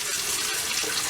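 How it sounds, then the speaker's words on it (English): Rinse water poured out of a bucket of aquarium gravel from a 20-pound bag, a steady close splashing gush that runs unbroken, with no talk. "kind of pour the water out"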